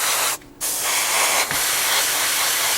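Loud, close aerosol spray hisses continuously as black paint goes onto a 1/35 scale Tamiya Panzer III model tank, with a brief pause near the start and a tiny dip later.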